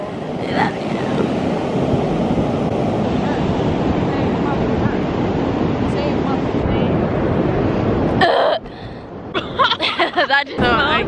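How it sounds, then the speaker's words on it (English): Ocean surf at a San Diego beach rushes and breaks in a continuous loud roar with wind buffeting the microphone, then fades near the end as a voice speaks up close. "We are at the ocean."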